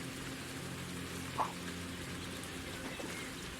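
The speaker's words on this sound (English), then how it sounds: "Will it stop raining in an hour?" Steady rain falling in the VR fishing game Ultimate Fishing Simulator, a continuous even hiss with one brief splashy tap partway through, heard alone without speech.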